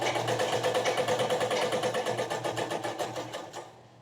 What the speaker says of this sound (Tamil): இப்படி வைக்கும்போது லேஸோட சென்டரில் தைக்கணும்